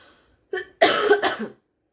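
A person coughs: one short cough, then a longer, harsher burst of coughing, close and clear, with silence before and after.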